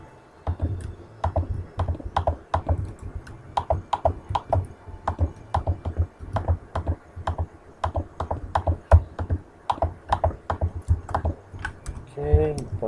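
Rapid typing on a computer keyboard while entering a Minecraft chat command, a steady run of close, crisp key clicks in uneven bursts across the whole stretch, with a brief voice sound near the end.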